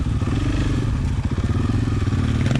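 A dirt bike loaded with camping gear rides along, its engine a steady loud drone with rough, bumpy clatter throughout and no talk.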